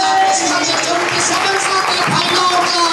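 Loud applause and crowd noise fill a church gathering, a dense continuous roar of clapping mixed with voices, steady and close for the whole stretch.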